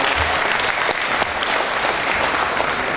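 Steady applause from a crowd at a Korean gubernatorial candidate's political event, a dense continuous patter of clapping hands that holds evenly throughout with no voices rising above it.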